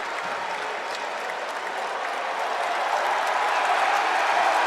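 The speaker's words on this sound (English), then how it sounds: "The crowd getting into it here at Rocket Arena." A large crowd at an Akron college men's basketball game in Rocket Arena against Miami, cheering and applauding in a continuous loud roar that swells slightly toward the end.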